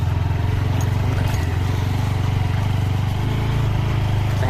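Steady mid-pitched motorcycle engine drone while a couple rides home on a bike, running continuously and close throughout with no talk over it.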